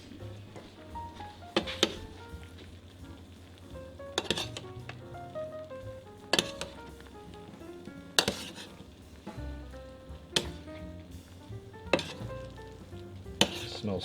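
Steaks frying in a pan for medium rare while sauce is continuously spooned over them, a steady sizzle broken by repeated clinks of a spoon against the pan, no talk.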